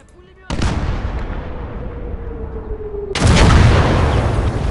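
In the WWII video game Gates of Hell, artillery fires twice: one loud, sudden blast with a long rumbling decay, then a second, heavier boom a few seconds later that keeps rolling on.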